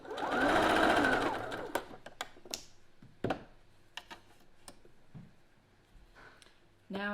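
Domestic sewing machine stitching through an ender scrap between quilt pieces for a stained glass denim quilt, a loud close whirring run for about two seconds, then quieter clicks, handling taps and faint room noise.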